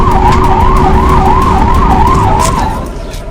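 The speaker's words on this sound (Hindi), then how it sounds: "एम्बुलेंस पूरी रफ्तार के साथ दौड़ रही है।" An ambulance races along with its siren wailing loudly in a steady rising and falling cycle over road noise, the siren fading toward the end.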